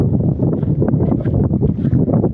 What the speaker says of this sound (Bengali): বাতাসটা অনেক সুন্দর তাই না